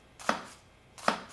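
A Masakage Shimo 240 kitchen knife dices food on a cutting board with two crisp, close knocks about three-quarters of a second apart and quiet between them.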